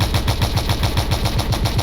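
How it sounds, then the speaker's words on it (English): Machine gun fire from a radar-aimed 360-degree turret in the Stormworks video game, a steady rapid burst of shots repeating without pause, loud and close throughout. "it sees me and starts shooting at me"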